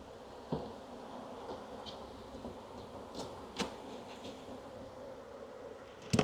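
Honeybees buzz around an opened full-size hive as mated queen nucs are moved in, a soft, continuous low drone with a few faint clicks and knocks from handling the frames.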